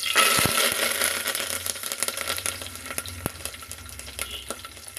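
Curry leaves crackle and sizzle loudly in hot oil with fennel seeds, the popping easing a little over a few seconds.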